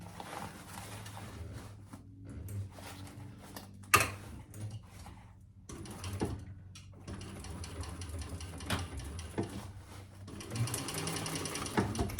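A sewing machine stitches the bottom seam of a tote handbag in several rapid mechanical bursts, broken by short pauses and a sharp click or two, close and fairly quiet.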